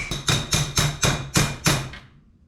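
A big bolt is hammered through a hole during a brake line and air bag install, six evenly spaced loud metallic whacks about a third of a second apart, each ringing briefly before the last fades into quiet.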